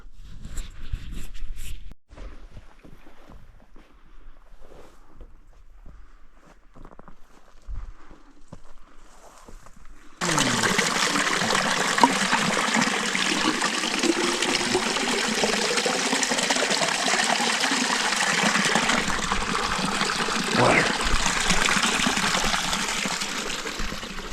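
A creek rushes in a steady broad wash that starts abruptly and runs loud and close for the rest of the time, after a quieter stretch of scattered footsteps and rustling along an oak-lined trail at an elk hunting camp.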